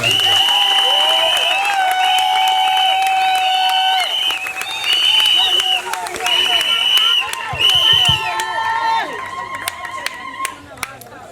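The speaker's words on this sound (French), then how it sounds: "Il faut applaudir très fort pour celle qui est là." An audience applauds loudly at a couple's celebration, sustained clapping and cheering beneath an amplified voice singing or calling out, with chatter and sharp claps continuing to the end.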